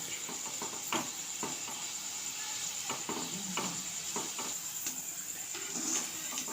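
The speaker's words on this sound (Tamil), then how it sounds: "எண்ணெயில் அப்படி நல்லா திருப்பி திருப்பி விட்டுக்கலாம் விட்டு இந்த பபுள்ஸ் எல்லாம் அடங்கின பிறகு சிப்ஸ் ரெடி ஆகிடும்" Potato chips frying in hot oil, a fine bubbling sizzle running throughout with repeated soft knocks and scrapes as the slices are turned, quiet and close.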